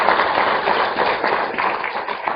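Audience applause at a university groundbreaking ceremony at IIT Hyderabad, a dense, steady wash of many hands clapping together, fairly loud and sustained for the whole moment with no voices over it.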